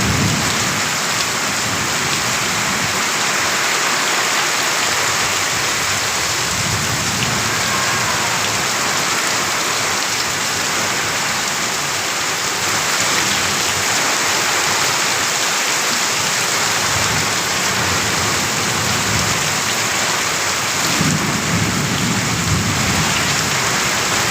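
Heavy rain pours steadily in Mohanganj, Netrokona, with low rumbles of thunder rolling underneath, a dense continuous hiss throughout and no voices.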